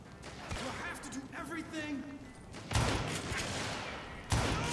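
Gunfire in the Western shooter Call of Juarez: Gunslinger, two sharp, loud shots in the second half ringing over game ambience and someone talking during the earlier stretch.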